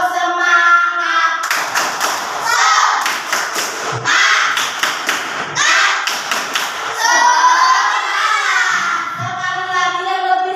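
A group of schoolchildren claps together in a steady rhythmic pattern for a class cheer, several bursts of unison clapping mixed with children's voices chanting along.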